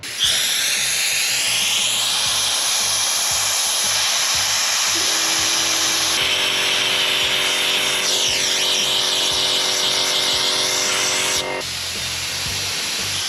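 A small handheld sandblaster strips rust from an old saw blade, making a loud, continuous close-up hiss of blasting grit over a steady high tonal whine that shifts pitch partway through and drops off near the end.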